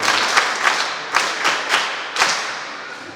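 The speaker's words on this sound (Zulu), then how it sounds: "Ngicela simnikezeni ihlombe bazalwane." A church congregation at an ordination service claps together, a dense continuous patter of hands with several sharper bursts standing out, loud and close, with no talking.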